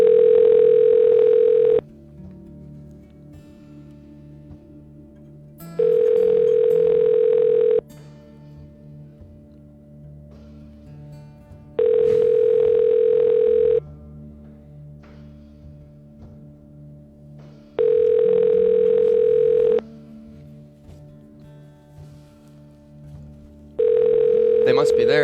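Outgoing phone call ringback tone, a steady electronic tone sounding in regular bursts of about two seconds separated by roughly four-second gaps, repeating five times, clear and alone.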